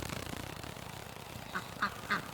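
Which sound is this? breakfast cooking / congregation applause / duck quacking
duck quacking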